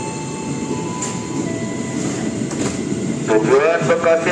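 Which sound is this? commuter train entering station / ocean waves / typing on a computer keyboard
commuter train entering station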